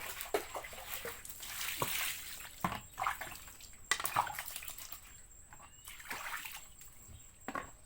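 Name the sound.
washing hands with water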